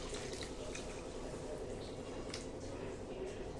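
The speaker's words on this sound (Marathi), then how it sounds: "आपण गरम पाणी याच्यामध्ये टाकूया" Hot water poured into a pot of usal cooking for Nashik-style misal, a steady broadband liquid rush and gurgle running continuously under a low simmer, moderately loud and close throughout.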